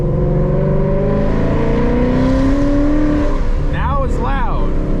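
2021 Ford Mustang GT with stainless headers, Roush cat-back exhaust and E85 tune accelerating hard in sport mode in third gear, a loud steady engine roar climbing in pitch throughout, with brief chirp-like sounds near the end.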